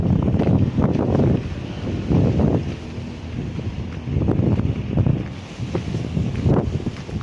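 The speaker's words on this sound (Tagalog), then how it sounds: "Mahangin talaga dito." Strong, stormy wind outdoors buffets the microphone in loud, rolling gusts that rise and fall throughout, with no voices.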